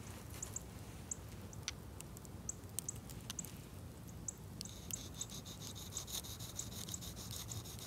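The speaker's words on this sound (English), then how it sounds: "I'm curious how well it's going to sharpen it now that I've dulled it so much" A Gerber Principle knife with a 420HC steel blade is drawn across a sharpening stone, making soft, repeated scraping strokes that stay faint and close, with light ticks and high chirps in the background.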